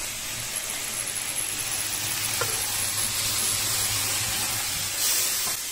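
Jack Daniel's whiskey flambéing in a cooking pan gives a steady, fairly loud rushing hiss that holds evenly throughout, with no voices.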